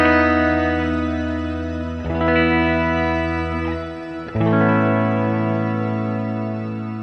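Electric guitar through a reverb effect on a Headrush unit, with the pitch detuned, sustaining chords in a steady wash with two fresh strums partway through, loud and alone.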